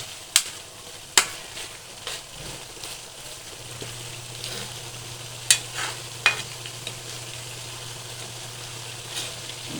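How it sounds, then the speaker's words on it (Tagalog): Corned beef fries in a pan with a soft continuous sizzle, broken by repeated sharp scrapes and clinks of a spatula stirring it, close up and with no talking. "Luto tayo ng corned beef"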